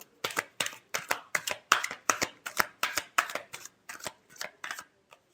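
Tarot cards are riffled in a steady run of about fifteen crisp shuffling bursts, close and evenly spaced, with no voices over them.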